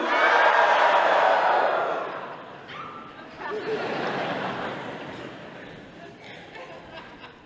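A live crowd at a hip-hop performance shouts and screams in answer to an MC, a loud burst that fades and then swells again before trailing off.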